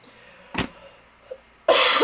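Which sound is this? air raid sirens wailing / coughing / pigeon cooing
coughing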